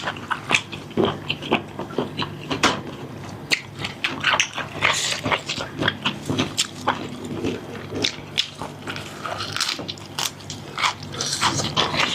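Crunchy giant octopus tentacle being bitten and chewed up close, with repeated sharp crunches and wet chewing in an irregular rhythm and no talk over it.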